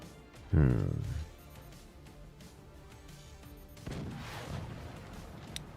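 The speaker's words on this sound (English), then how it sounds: "The standard cannon." A standard cannon fires in the Forts strategy game, one loud booming blast with a rumbling decay, later followed by a softer distant impact, while a commentator talks over the match.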